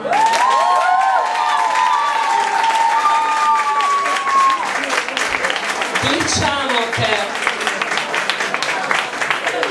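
A studio audience at an Italian TV show claps and cheers loudly and continuously, with whistles and shouts over the applause while a presenter speaks through the noise.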